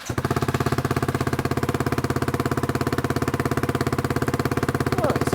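Ducati Hypermotard 698 fitted with an Austin Racing exhaust and baffles, idling with a close, steady, even thumping pulse that holds throughout with no revving.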